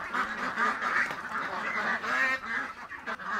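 Peking ducks in a farm breeder pen quack and honk steadily, a dense overlapping flock chorus heard up close with no talk.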